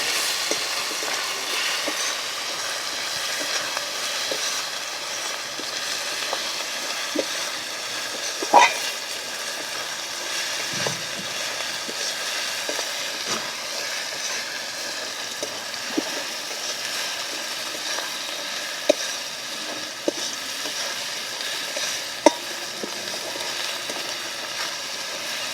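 Whole chillies sizzle steadily in a pan of oil for a village-style country chicken curry, a continuous soft crackle with a few sharp clicks and stirring scrapes, no voices.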